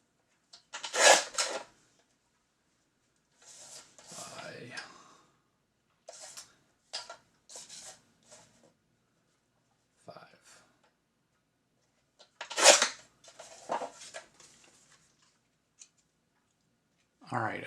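Scissors cut paper for a stamped craft card, giving a few short snipping bursts and a papery rustle separated by quiet gaps, with some light handling clatter nearby.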